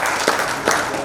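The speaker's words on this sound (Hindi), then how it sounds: "स्वामी जी के लिए एक बार जोर से तालियां बजाइए।" Brief burst of audience clapping for a swami at an evening yoga gathering, steady and close, lasting about a second.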